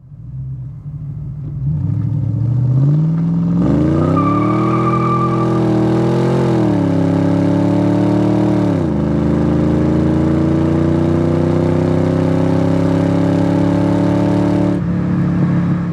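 A supercharged 302 V8 in a 1989 Ford Mustang 25th Anniversary with automatic transmission pulls hard into boost, its loud steady engine roar climbing in pitch, dipping briefly at a shift, then droning on at close range.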